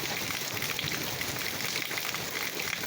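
Walnut-sized hail pounds the Akçadağ plain in Malatya, striking apricot trees and ground in a loud, dense, unbroken hiss of countless close impacts with no voices.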